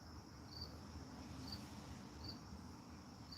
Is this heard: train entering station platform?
no